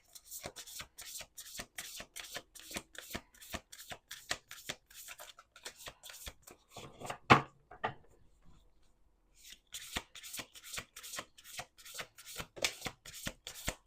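Oracle cards shuffled by hand in quick repeated riffling bursts, close and fairly quiet, with a short pause midway before the shuffling resumes.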